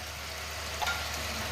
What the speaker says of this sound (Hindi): इसको अच्छे से भून लेंगे।